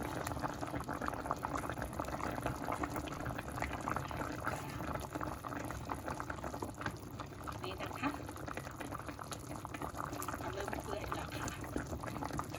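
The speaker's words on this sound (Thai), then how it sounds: "อยากได้เปื่อยมากกว่านี้ก็ต้มต่ออีกนะคะ" Pork ribs stewing in a pot, a steady, continuous bubbling boil that runs without a break, with faint voices in the background.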